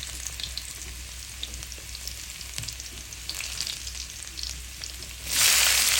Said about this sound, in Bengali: ভাজির জন্য তেলটা দিয়ে দিলাম, পাঁচফোড়ন দিয়ে দিলাম